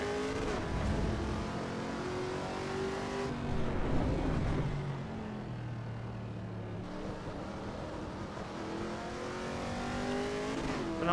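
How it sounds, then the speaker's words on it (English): Chevrolet Camaro engine in Assetto Corsa Evo revving and shifting through gears, a steady loud engine drone rising and falling in pitch with gear changes, heard alone without talk. "I think this Camaro sounds great."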